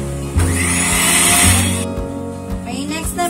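An electric mixer whirs as it blends ingredients for a graham cake, starting abruptly with a loud high whine that runs about a second and a half, then stops, followed by lighter handling knocks.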